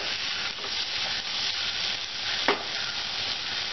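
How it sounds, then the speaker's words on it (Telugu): Chopped tomatoes fry in a pan for a gongura chana dal curry, giving a steady bright sizzle and hiss with a single scrape of stirring partway through, close and continuous. "కట్ చేసుకున్న టమాటాలు, టమాటాలు కూడా కొంచెం మధ్య వరకు వేయించుకోవాలి."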